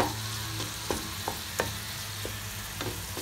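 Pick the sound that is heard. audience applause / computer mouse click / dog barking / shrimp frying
shrimp frying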